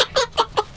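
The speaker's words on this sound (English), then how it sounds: "That's Ruby, that's my hen." A hen clucks close by in a parking lot, four quick loud clucks in an even rhythm, alone without talk.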